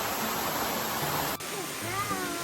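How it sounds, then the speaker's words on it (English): A waterfall roars as a constant broadband rush of falling water, loud and close, with faint tonal sounds and a brief dropout midway through. "Look at this waterfall."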